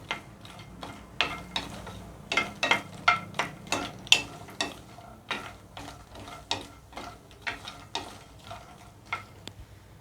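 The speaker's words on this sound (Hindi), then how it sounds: "मखाने को घी में भून लेंगे।" Fox nuts (makhana) being roasted in a spoonful of ghee in a pan make rapid rattling clicks and sharp taps as they are stirred, a busy irregular rhythm close up over a faint sizzle.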